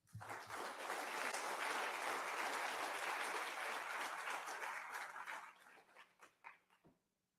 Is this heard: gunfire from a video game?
no